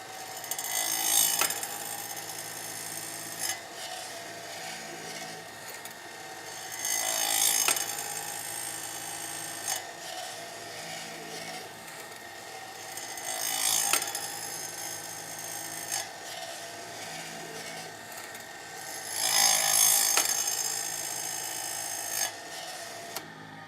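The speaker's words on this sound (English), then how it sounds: "We start the grinder." A Logosol chain sharpening grinder runs steadily, with its grinding whine swelling into louder scraping passes at regular intervals as the saw chain is fed through, close and alone with no talk.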